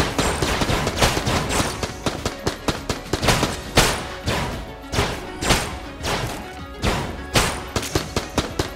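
Rapid gunfire and bullet impacts from Enter The Gungeon, a relentless stream of sharp, loud shots and thuds repeating irregularly throughout, with dense game noise between bursts.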